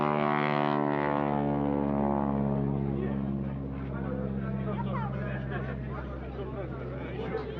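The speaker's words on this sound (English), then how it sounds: "The North American Aviation T-6 Texan was a single-engine advanced trainer aircraft" A North American Aviation T-6 Texan single-engine propeller trainer drones loudly overhead at an airshow, its steady harmonic roar shifting in pitch as it passes and fading into rougher engine noise and crowd sounds.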